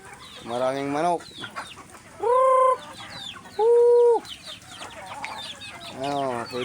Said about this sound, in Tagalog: Oh, yun. Maraming manok.